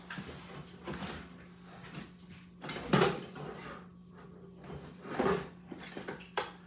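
Kitchen drawers are pulled open and rummaged through, a series of sliding scrapes, clunks and rattling utensils in irregular bursts, close and moderately loud.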